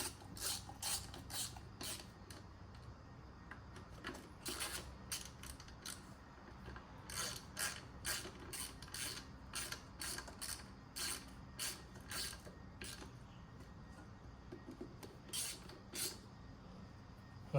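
A hand ratchet clicks in quick, repeated bursts while bolts are tightened on a Yamaha YFZ450R quad, the close, sharp ratcheting coming in uneven rhythmic runs with short pauses between strokes.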